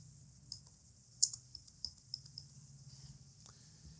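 Computer keyboard typing, irregular keystrokes and clicks close by at a quiet level, with a steady low hum underneath and no talking.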